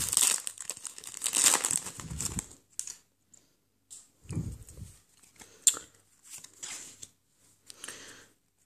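Pokémon Kommende Schicksale trading card booster packs are torn open, with bursts of crinkling foil and ripping wrapper heard up close, separated by short pauses and no voices.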